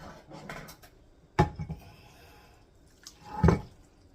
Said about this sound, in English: we're going to take the rest of that spaghetti and we're going to pour it right on top